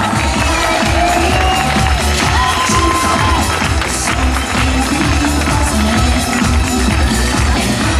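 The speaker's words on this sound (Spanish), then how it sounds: "por la gente que da fuerte aplauso para Mónica." Audience at a tribute show clapping and cheering, a loud dense crowd roar with steady applause and music-like tones underneath.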